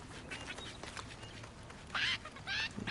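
A chicken in the Lego Fortnite video game clucks in two short, fairly loud bursts over a soft game background, with no talk during the clucks.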